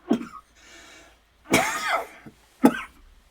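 Several harsh coughs from one person with a cold up close, separated by short pauses, with a throat-clearing rasp in between.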